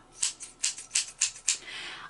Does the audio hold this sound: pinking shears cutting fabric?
yes